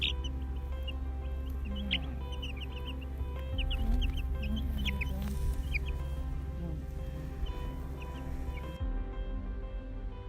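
Young chicks chirp and cluck together, with many short high peeps scattered over a low steady hum, fairly close, ending with a sudden drop to only the hum near the end.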